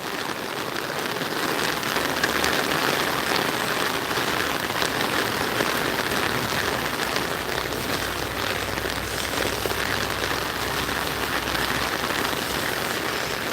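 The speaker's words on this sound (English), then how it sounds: "We got a rainy day in Georgia." Steady, dense rain patters onto an open umbrella during a morning walk on a rainy day in Georgia, a continuous close hiss with no talking.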